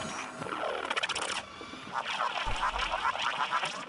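A bird character in the video game Final Shaped gives a run of warbling, quacking calls, rising and falling in repeated sweeps, close and fairly loud over soft game ambience.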